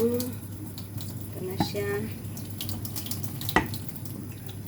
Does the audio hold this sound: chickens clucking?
no